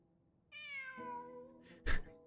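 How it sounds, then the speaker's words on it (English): A cat in the Genshin Impact video game gives a single drawn-out meow, close and clear, followed by a short burst of noise. "It really is a cat."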